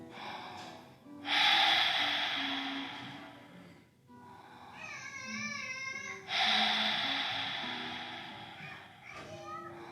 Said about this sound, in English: Maybe a couple of hard breaths,